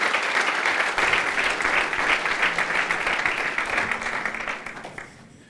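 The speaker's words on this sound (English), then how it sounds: "Awesome, round of applause" A conference audience at CordaCon gives a dense round of applause after a talk, steady and full for about four seconds before fading out.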